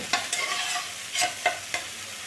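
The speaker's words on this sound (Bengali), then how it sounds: "এখন আমি নুন হলুদ মাখিয়ে রাখা চিংড়ি মাছগুলো এর মধ্যে দিয়ে দেব" Prawns coated in salt and turmeric tipped into a hot pan of frying masala for prawn pulao, a steady sizzle with four or five sharp scraping stirs, close and clear with no talking.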